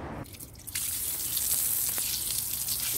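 A garden hose sprays water over a lemongrass garden bed, starting with brief drips before a steady hissing spray kicks in and continues evenly, close and fairly loud.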